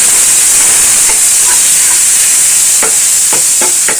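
Masala and ginger garlic paste fry in a pan, giving a loud, continuous close sizzle and hiss with a few faint stirring scrapes near the end.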